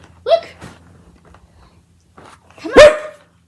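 A dog barks twice at close range, loud and sharp, with a short gap of near silence between the two barks.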